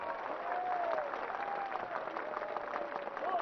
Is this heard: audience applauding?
yes